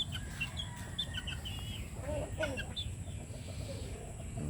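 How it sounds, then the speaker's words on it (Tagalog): Chicks of a Butcher Mt. Banahaw gamefowl flock on a farm, with repeated high thin peeps and soft clucks over a steady outdoor background hum, moderately close, with no talking. "Mga sisiw."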